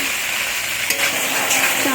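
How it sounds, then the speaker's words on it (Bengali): Chow mein noodles frying and being stirred in a pan, a steady close sizzle with scraping stir strokes throughout, no voices. "ভালো করে নাড়ানাড়ি করে দেওয়া হচ্ছে"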